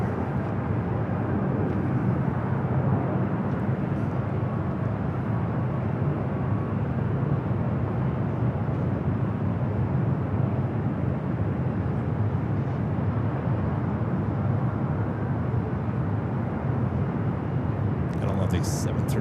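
A WestJet Boeing 737-700 airliner passing at LAX, a steady broadband jet roar holding at a constant loud level for the whole stretch, with no speech audible over it.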